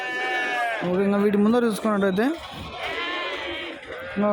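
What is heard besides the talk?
sheep bleating at a market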